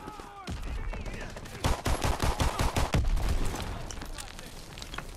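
Rapid bursts of gunfire from the World War II shooter game Call of Duty WWII, loud and close, with a dense volley of shots clustered in the middle and steadier firing around it, under faint talk.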